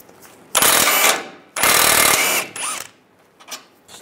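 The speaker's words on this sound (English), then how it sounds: "Take this bolt out here, use a 16 millimeter socket." A hand ratchet with a 16 mm socket removes a bolt on the front lower control arm of a 1998-2010 Volkswagen Beetle. Two long, loud, close ratcheting bursts are followed by a few shorter, softer ones.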